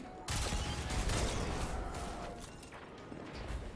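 Gunfire in Destiny 2 during the Grasp of Avarice dungeon, a rapid clattering fusillade of shots with crunching impacts, fairly quiet and continuous, easing off briefly before picking up again near the end.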